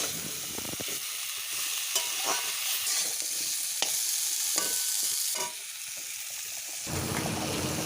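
Pumpkin pieces lightly frying in a pan for a pumpkin and Malabar spinach curry with hilsa fish head, a bright continuous sizzle with stirring clinks and scrapes, no voices.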